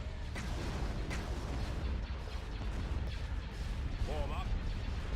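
Mass driver cannons fire in a Star Wars space strategy game, a dense continuous barrage of booming shots layered into a steady roar, loud and unbroken throughout, with a brief spoken remark near the end.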